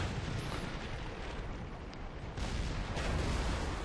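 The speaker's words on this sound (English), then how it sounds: "As you can see, I'm firing APCR in the moment." World of Tanks gameplay with a tank cannon firing APCR rounds, heard as a dense, loud, continuous rumbling roar of battle noise with no clearly separated individual shots.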